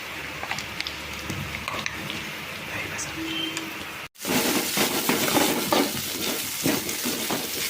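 Green chilies and onions sautéing in a pan for chickpea sundal, a steady frying crackle with stirring scrapes that turns louder and denser partway through, heard alone without talk.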